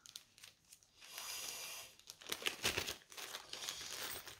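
A small plastic packet holding a chain is torn and opened, giving faint, close crinkling and tearing rustles in uneven bursts with short pauses between them.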